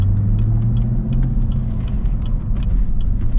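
A low, steady engine rumble from a nearby 2024 Chevy Corvette or Camaro ZL1, with a deep burbling exhaust tone running throughout at a constant level.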